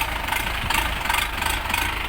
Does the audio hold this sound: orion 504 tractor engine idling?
yes